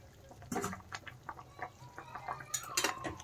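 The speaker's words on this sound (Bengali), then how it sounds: "এখন আমি ভেজে রাখা মাছগুলো দিয়ে দিচ্ছি।" Pieces of fried katla fish dropped into a pot of boiling curry, a burst of splashing and sizzling followed by bubbling and clinking of a utensil against the pot, close and moderately loud.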